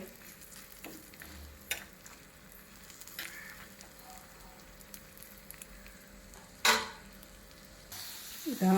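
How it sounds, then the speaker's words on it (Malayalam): Raisins and cashews fry in hot butter for a vegetable noodle dish, making a faint, low sizzle with light stirring and a couple of sharp clinks of a utensil against the pan. "ചൂടായ ബട്ടറിലേക്ക് മുന്തിരിയും കശുവണ്ടി ഇട്ടു."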